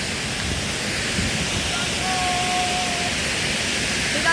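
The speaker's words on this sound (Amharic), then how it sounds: "አሁን ደግሞ ወተርፎል ፏፏቴው እያየን ነው" A waterfall at Kebena gives a steady, dense rushing hiss with no breaks. A faint voice may sit under it.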